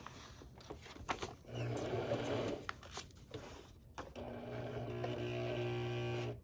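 A domestic sewing machine runs in two bursts while stitching a tight spiral practice line on fabric, its motor whirring steadily with a fine rapid needle patter, close and fairly quiet with brief pauses between runs.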